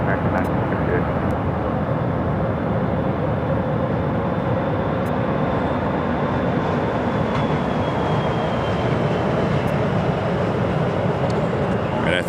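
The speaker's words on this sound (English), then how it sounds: "American Airlines Flight 535 and an A321neo, the flight just taking off" An American Airlines A321neo takes off from Phoenix Sky Harbor, a steady broadband engine roar that holds level and loud throughout, with a faint rising whine threading above it.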